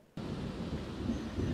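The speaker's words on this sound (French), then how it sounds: "c'est de la pluie, de la pluie, de la pluie, de la pluie, de l'orage" Steady rain and a thunderstorm rumble outside in The Sims 4, a dense low wash of rainfall that starts abruptly after a brief quiet moment and holds constant without voices.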